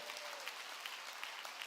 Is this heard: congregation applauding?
yes